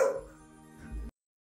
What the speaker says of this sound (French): Il aboie en rentrant.